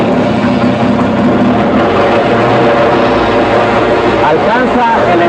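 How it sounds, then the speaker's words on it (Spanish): A fuel-injected car engine cranks and settles into a steady, loud, rough running drone that continues throughout, with someone talking over it. "Encendemos el motor."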